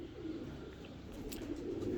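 Pigeons cooing softly at a breeder's loft, a low steady murmur running through the whole stretch with faint background noise.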